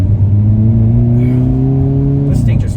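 A Hyundai Kona N turbo hatchback launches hard off the line, its engine note loud and close, climbing steadily in pitch before a sharp shift near the end.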